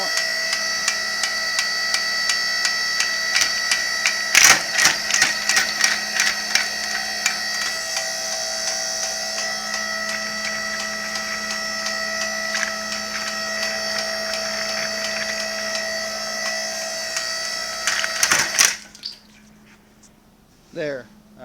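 A hydraulic-driven plastic shredder runs with a steady motor hum while plastic hydraulic caps crack and clatter through in bursts, then the machine stalls abruptly to near silence, and a voice follows briefly.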